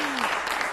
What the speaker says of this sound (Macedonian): Па да ги поздравиме со еден аплауз странските служби.